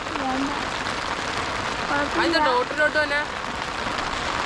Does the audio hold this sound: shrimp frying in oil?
no